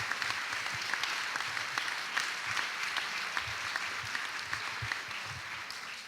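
Steady, dense applause from a festival audience at a political gathering, a continuous wash of many hands clapping at even loudness throughout, with no voices standing out.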